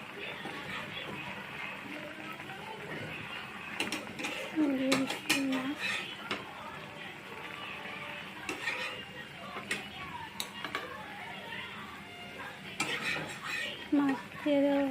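Fish pieces go into a simmering mustard fish curry in a pot, with repeated close clinks and scrapes of a metal utensil against cookware, scattered through the stretch, while a person speaks intermittently.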